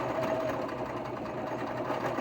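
A sewing machine runs steadily through the seam of a dark fabric face cover, a close, continuous mechanical whir with a fast stitching rhythm and no pauses.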